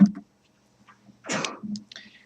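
A single sharp sneeze bursts out after a quiet pause, followed by a brief breathy sound, close to the microphone.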